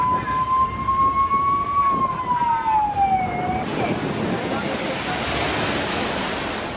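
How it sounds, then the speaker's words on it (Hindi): Stormy sea waves pound the coast during Cyclone Amphan in West Bengal and Odisha, a loud, steady broadband roar of surf that follows a wailing siren-like tone. "समंदर की लहरें हर कुछ तबाह करने पर उतारू हो गईं।"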